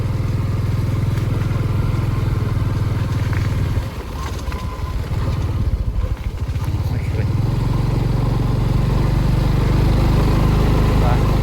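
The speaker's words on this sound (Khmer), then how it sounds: "យើងអាចជិះម៉ូតូមកលេងបានពុកម៉ែបងប្អូន" A motorbike climbing the road up to the Bayangko mountain temple in Takeo, Cambodia, its engine droning loud and close throughout with a brief dip and rough rattle midway, while someone talks over it.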